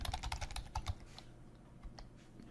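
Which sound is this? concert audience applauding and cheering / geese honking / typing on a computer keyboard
typing on a computer keyboard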